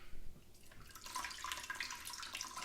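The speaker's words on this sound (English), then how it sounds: "Would you pour just a little bit of water over this" Water poured over fruit for a fruit punch mead, a soft trickling and splashing that starts faint and grows busier, heard up close and fairly quiet, with no talk.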